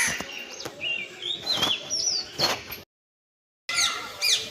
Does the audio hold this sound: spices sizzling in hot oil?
no